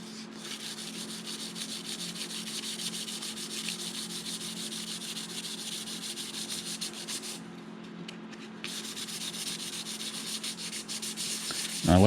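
UV curable grain filler on wood is sanded by hand in a steady, continuous rasping rub that runs close and unbroken for about twelve seconds.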